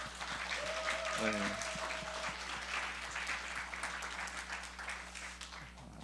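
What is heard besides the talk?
congregation applause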